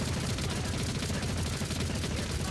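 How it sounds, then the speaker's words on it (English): Wildfire unleashes burst fire in the Warhammer 40K game Rogue Trader, a dense, roaring volley of rapid gunfire that stays loud and unbroken from start to finish. "let's go for a big old burst fire from Wildfire"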